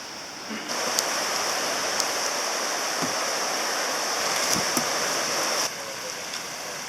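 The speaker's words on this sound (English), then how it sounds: "we got a swollen creek to cross because the rains were so bad last night" A creek swollen after a night of heavy rain rushes steadily nearby, a broad, loud wash of flowing water that runs continuously with a few faint knocks over it.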